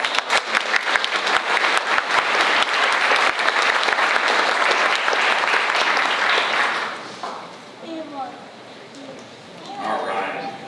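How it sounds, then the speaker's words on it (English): Banquet audience at a troop's 75th anniversary gives a loud round of applause that fills the first seven seconds, then fades away as a voice begins speaking. "Round of applause."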